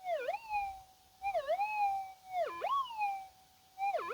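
A Garrett Axiom metal detector with a double-D coil and iron discrimination switched off, responding to iron: a loud, steady electronic tone that repeatedly swoops sharply down in pitch and back up, about four times, with no talking.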